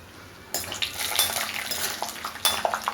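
Peanuts frying in hot oil in a kadhai over low heat for murmura chivda, with a steady soft crackle and sizzle, plus clinks and scrapes of a utensil stirring against the pan.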